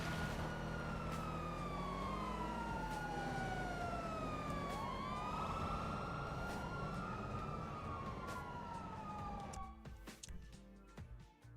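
A modded police car siren in the video game GTA V wails and sweeps up and down continuously, loud and steady over road noise, then cuts off into scattered clatter near the end.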